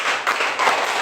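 Audience applause for a children's school drama of Malin Kundang performed by a third-grade group, a dense, steady wash of clapping across the whole second, swelling slightly midway.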